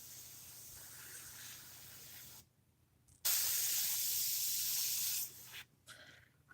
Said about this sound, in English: Right now we're spraying RAF Tamiya green onto the green sections of the airplane.